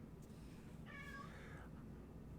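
A single faint cat meow rises once in the background behind steady low room noise.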